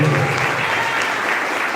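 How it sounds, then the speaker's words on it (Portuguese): A congregation at a church service breaks into loud, close applause, a dense wash of clapping that holds steady, with a brief voice at the very start. "Palmas para Jesus, meu irmão."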